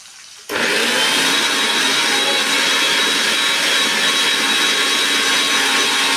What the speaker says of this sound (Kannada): ಇದು ಎಣ್ಣೆಯಲ್ಲಿ ಫ್ರೈ ಆಗೋವರೆಗೂ ನಾನು ಅದನ್ನು ಮಿಕ್ಸಿ ಮಾಡ್ಕೊಂಡ್ಬಿಡ್ತೀನಿ.